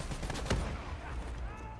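Quick bursts of gunfire in the Black Ops 3 shooter game, with a sharp, loud crack near the middle over a rumbling battle bed. Faint voices mix in.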